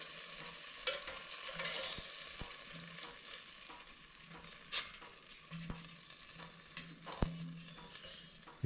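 Chicken pieces in a cheap $60 Kmart air fryer basket being stirred and turned, giving a steady sizzling hiss with scraping and a few sharp clinks scattered through, close and fairly quiet.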